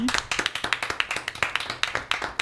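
Small audience clapping briefly on a Martinique TV show for an Audi Martinique manager, a handful of close, sharp claps in a loose rhythm, fairly loud and with no talking over them.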